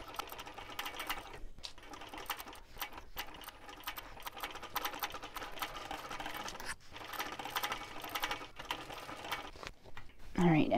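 Sewing machine stitching a clutch bag, a fast, steady mechanical whir running in bursts with brief stops, quiet and close, with a person talking over it.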